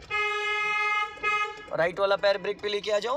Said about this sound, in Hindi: बस एक लॉन्ग हॉर्न पुश करो